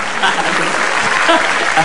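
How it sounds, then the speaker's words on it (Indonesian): A studio audience at an Indonesian comedy show breaks into brief, loud, dense clapping that holds steady for about two seconds. "Tepuk tangan luar biasa."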